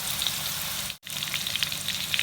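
Prawns fry in a pan of oil for a prawn biryani, giving a steady, close hissing sizzle with small crackles throughout, broken by one brief cut to silence.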